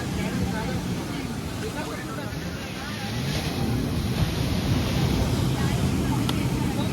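Steady wind and surf noise with a low motor rumble from a boat ride on the sea off Varkala beach, where speedboats, bumper boats, banana rides and jet skis run; continuous and fairly loud, gradually swelling.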